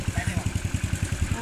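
A Honda C70 motorcycle idles close by, a steady low rhythmic putter with evenly spaced firing pulses and no voices over it.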